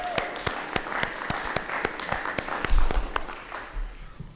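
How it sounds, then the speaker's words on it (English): A room at a state board of education meeting breaks into applause for a police officer, with crowd clapping under sharp, evenly spaced claps from one nearby pair of hands. "I would like the room to give a round of applause to the officer here that makes us safe"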